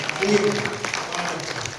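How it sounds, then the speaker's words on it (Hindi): A small audience at a poetry recital gives a short burst of scattered clapping, a few hands patting unevenly and moderately close while a voice briefly sounds at the start. "एक बार 2-4 लोग ताली बजा दे"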